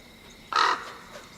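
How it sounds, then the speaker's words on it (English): A single crow caws once, a short harsh call standing out clearly against a quiet background, with nothing else happening around it. "Only a bird. A live bird."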